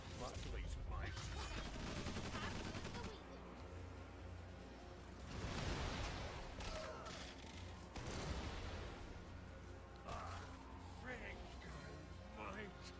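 Unit gunfire and explosions in Tiny Metal, heard as continuous faint battle noise with repeated bursts under a voice.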